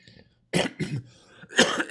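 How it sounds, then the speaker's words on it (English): A man coughs a few times at close range, short throaty bursts following a brief quiet pause, with no speech in between. "A little cough in there."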